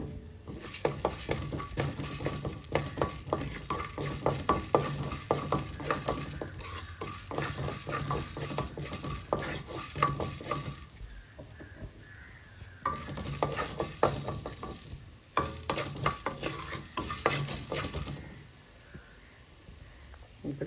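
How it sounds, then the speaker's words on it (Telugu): Two spoonfuls of coriander seeds fry and get stirred in a hot pan, a steady crackling sizzle broken by quick scraping strokes, briefly easing around the middle before picking up again. "ఒక రెండు స్పూన్లకి ధనియాలు కూడా ఫ్రై చేసుకున్నాము"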